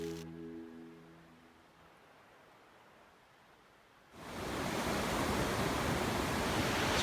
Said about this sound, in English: So right near our campsite is this beautiful river.